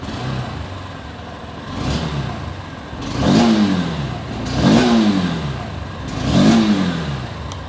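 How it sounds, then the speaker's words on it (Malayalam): A Honda CB200X single-cylinder motorcycle engine idles, then gets three sharp throttle blips about a second and a half apart, each rising and falling quickly, close and fairly loud with no talking. "ഇതൊരു സിംഗിൾ സിലിണ്ടർ മോട്ടോർ സൈക്കിളാണ്."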